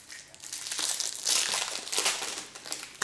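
A foil wrapper from a 1999-00 O-Pee-Chee Chrome hockey card pack is peeled open, crinkling close and crisp in uneven bursts with louder tearing rustles partway through, then quieter handling at the end.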